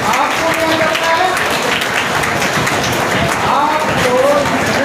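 Audience applause at the opening ceremony of a 2024 provincial cultural festival, loud dense clapping filling the whole stretch without a break.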